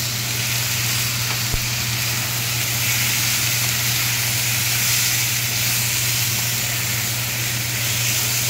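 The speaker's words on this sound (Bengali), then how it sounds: "এবার এর মধ্যে আমি পনিরটা দিয়ে দেব" Soaked, fried paneer goes into a hot pan for kadai paneer, giving a steady, loud sizzle and hiss that holds evenly throughout with no talking.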